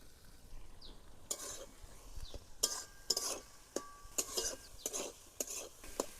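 Snails caught from a wetland being stirred and fried in a pan, with repeated sharp scraping strokes of a spatula against the metal over a low sizzle, close and fairly quiet, no voices.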